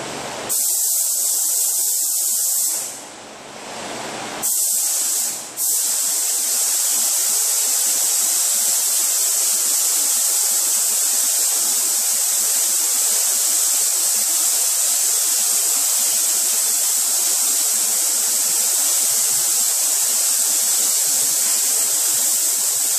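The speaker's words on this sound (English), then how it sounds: "while it's still a little bit wet, I'm gonna do the drop coat." A spray gun lays a drop coat of paint on an aftermarket fender for a 2006 Chrysler Pacifica, giving a steady, close, loud hiss that holds for nearly the whole stretch with two brief breaks near the start.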